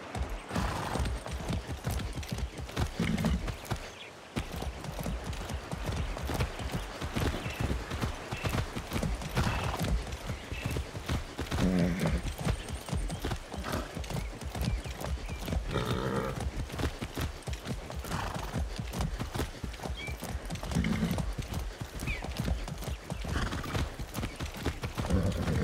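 A horse gallops in Far Cry 6, its hooves clip-clopping in a fast, continuous rhythm for a long stretch, with occasional whinnies and snorts and no talk.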